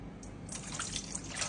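Water, 500 grams, pouring into a bowl for a 100% hydration sourdough loaf, a short soft trickling splash that builds slightly, close and fairly quiet with no talking.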